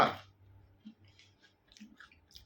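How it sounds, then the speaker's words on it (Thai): A crunchy Japanese rice cracker, DOZO sweet chilli flavour, is chewed close to the mic: a loud bite at the start, then quiet irregular crunches and small clicks with no talking. "เป็นข้าวที่เกรดดีดังนั้นเนี่ยเวลากัดเนี่ย ก็จะมีความกรุบกรอบกรอบกรอบ"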